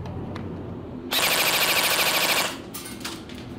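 A Neptune 10 Short Rossi airsoft AEG fires a loud, continuous full-auto burst on an 11.1 V battery, a rapid mechanical rattle lasting just over a second that stands out against quieter background noise.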